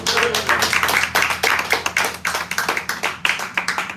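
An improv class clapping for themselves, a dense burst of many hands applauding in a room, loud and close, fading toward sharper, scattered claps near the end.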